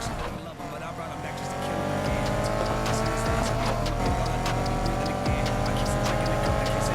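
Race cars from Need for Speed Heat roar past near a beach course, engines droning steadily with tire squeals and skids, under in-game voices talking.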